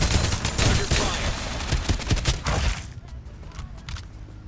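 Gunfire in the video game Farlight 84, a loud, rapid burst of shots that fills the first few seconds, then thins to scattered, fainter reports.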